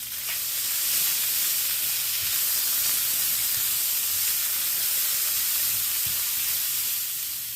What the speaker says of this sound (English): I'm gonna let this kind of sit a little bit, get brown on one side, while also steaming at the same time with the random lid set on top